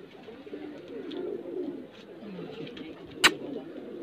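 Neeldumma high flyer pigeons give soft, low cooing that rolls on steadily throughout, moderately close, with one sharp brief click near the end.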